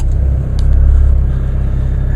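A 2016 Chevrolet Colorado Duramax diesel idles in drive with a steady, loud low rumble and a faint rhythmic diesel pulse, close to the microphone.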